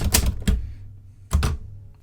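A Hermes 3000 manual typewriter struck twice in quick pairs, sharp close clacks of the typebars with short mechanical rattle between, loud and alone without talk.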